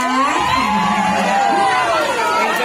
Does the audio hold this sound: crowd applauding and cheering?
yes